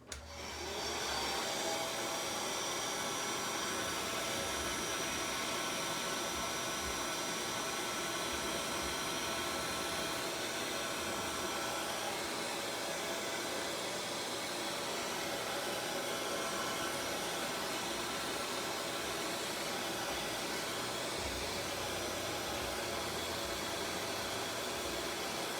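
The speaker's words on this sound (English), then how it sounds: "I'm just going to blow dry mine." A hair dryer blows steadily on acrylic paint, a loud and constant whooshing hiss that runs unbroken for nearly half a minute with no talking.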